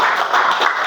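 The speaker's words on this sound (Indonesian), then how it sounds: "Yuk tepuk tangan" A short, steady burst of classroom clapping for a student group, many hands patting together close by with no voices over it.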